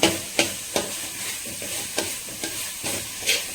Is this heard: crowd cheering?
no